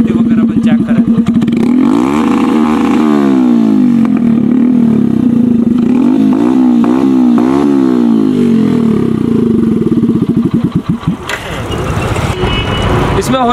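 A modified Hero HF Deluxe motorcycle with a custom exhaust revving loudly and close, its throttle rising and falling in repeated surges before settling, then a sharp burst near the end.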